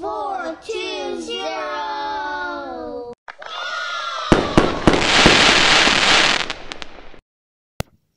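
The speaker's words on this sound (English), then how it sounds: "we celebrate with fireworks as we've gone around the wheel" Fireworks sound effect celebrating a completed times-table wheel: a dense burst of crackling pops and bangs with whistling and cheering for several seconds, preceded by a bright musical jingle and ending in a lone pop.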